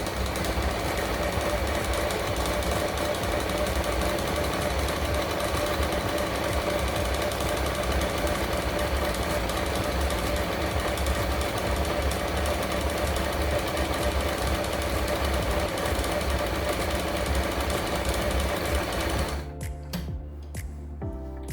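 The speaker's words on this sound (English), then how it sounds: "So then machine will make this green color design." Janome 392 embroidery sewing machine stitching a green design, a loud, fast, continuous mechanical chatter that runs steadily for most of the clip, then breaks into a few short stops and starts at the end.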